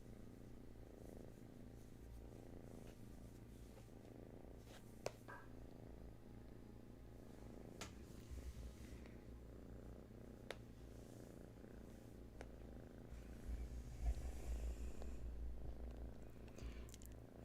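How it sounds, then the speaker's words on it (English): Sleeping kittens purr softly and continuously, a low steady rumble that stays quiet and close, swelling slightly near the end, with a few faint clicks and no talking. "I've got sleeping kittens all over the place here"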